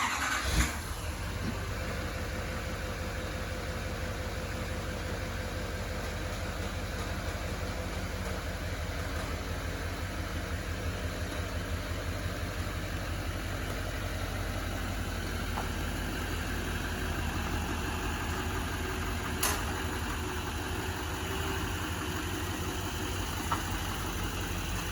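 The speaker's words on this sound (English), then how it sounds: "now let's just back the truck out, that way it's in the dark, and see how they look." A truck engine starts with a brief crank and settles into a steady, moderately loud idle that holds for the rest of the stretch, with a low continuous rumble and no talking.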